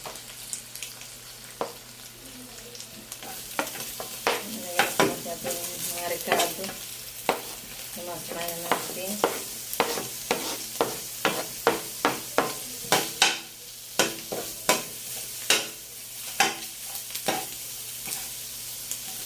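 Pork adobo sautés in hot oil in a pan, sizzling steadily while a utensil stirs and scrapes in a run of sharp, rhythmic strokes that grow more frequent.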